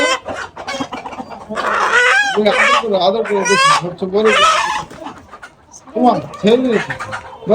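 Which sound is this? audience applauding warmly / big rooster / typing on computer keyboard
big rooster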